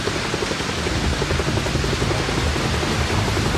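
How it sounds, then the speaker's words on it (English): A steady, dense wash of noise with a low rhythmic thumping underneath, like helicopter rotors beating through wind or rain, over a stormy sea. "We heard the heavy drum beat, the sound of a helicopter."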